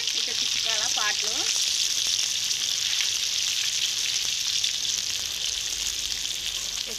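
Bocha fish frying in hot oil, a loud continuous hiss and crackle throughout, with a brief voice or bird-like chirps near the start beneath it.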